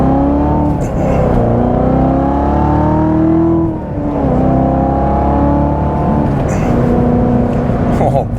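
A 2019 Corvette Z06 with a manual gearbox accelerates hard, its engine note climbing through the gears in loud, rising sweeps, dipping briefly at each shift, heard from inside the car with someone talking over it.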